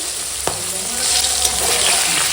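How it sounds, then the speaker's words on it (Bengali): Fish fries in a pan with a loud, dense sizzle close by, rising slightly after a single sharp click, steady throughout with no talking. "মাছগুলো ফটাফট ভাজি আর জোগাড়টা করি"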